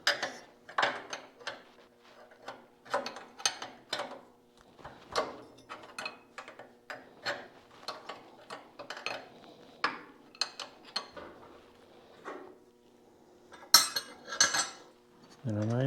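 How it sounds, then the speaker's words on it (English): A 7/8 wrench works a jam nut loose on a 1929 John Deere GP tractor, giving a string of light metallic clicks and clinks at an uneven pace, close by, over a faint steady hum. "So now I need 7/8 wrench to loosen the jam nut, which is down in here."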